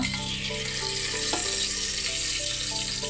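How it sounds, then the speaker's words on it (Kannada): Tempering spices spluttering in hot ghee for pulao, a loud, close, continuous sizzle with scattered pops and crackles, heard alone. "ತುಪ್ಪ ಬಿಸಿಯಾದ ನಂತರ ಇಲ್ಲಿ ಒಗ್ಗರಣೆಗೆ ಇಟ್ಕೊಂಡಿರುವ ಸಾಮಗ್ರಿಗಳನ್ನು ಹಾಕುವ"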